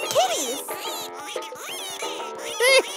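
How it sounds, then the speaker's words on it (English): Little cartoon ducks quack in a children's animated show, a busy run of squeaky, nasal quacks in quick succession, close and bright, with some voiced bits mixed in. "I love those little ducks."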